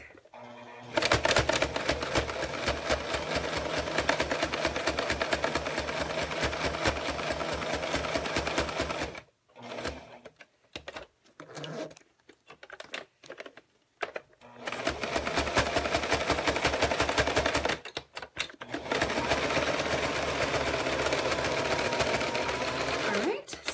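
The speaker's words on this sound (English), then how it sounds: "I'm just going to top stitch really quick." A sewing machine top stitching a zipper runs in two long, rapid bursts of close needle chatter, split by a pause filled with faint handling noises and short starts, with talking between bursts.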